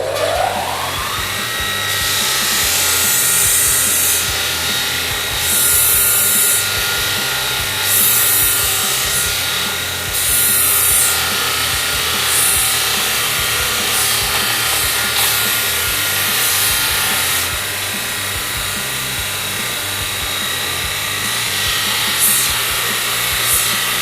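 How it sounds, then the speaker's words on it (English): Kalamazoo BG448 4x48 belt grinder runs steadily with its belt flat grinding on the platen, a loud continuous abrasive whir and rasp of workpiece against the belt, unbroken for the whole stretch with no talk. "this machine can be rotated down horizontally at 90 degrees for flat grinding on this platen here"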